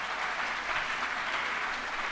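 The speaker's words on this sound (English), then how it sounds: "let's give them a round of applause" An audience at a reproductive rights roundtable with Vice President Kamala Harris applauds students, a steady, dense burst of clapping from a full room that holds an even level throughout.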